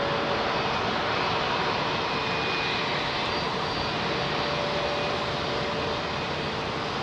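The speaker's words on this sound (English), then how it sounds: "got a Qatar 380" Jet engines of a Qatar Airways Airbus A380 at London Heathrow, a loud steady roar holding constant throughout with no talk over it.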